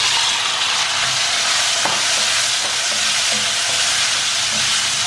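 Boiled potatoes fry in a pan with cumin and asafoetida for Jodhpuri aloo, a close, continuous hissing sizzle with faint scraping and stirring sounds and no talk.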